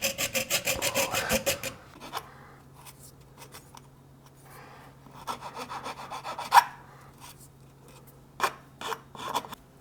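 Threaded rod being cut off while fitting a livewell aerator pump in a boat: a burst of fast, loud rasping saw strokes, then quieter scraping and a few sharp scattered strokes toward the end.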